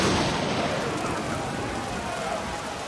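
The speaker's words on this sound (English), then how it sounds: "a violent storm hit the army." Violent storm lashing an army with rain and hail amid freezing winds, a dense, steady roar of downpour that stays loud and continuous throughout, with faint crackling textures underneath.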